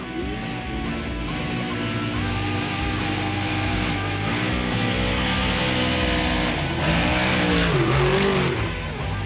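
Finke desert race trucks roar past at speed, engines loud and sustained with pitch rising and falling as vehicles pass close by, one after another, without talk.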